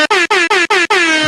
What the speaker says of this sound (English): And we've got, of course, the air horn.